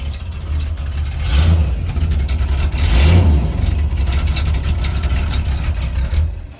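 A forgotten 34-year-old Chevrolet engine runs roughly, swelling in two revs before settling into an uneven, loud idle that continues to the end, with no talk.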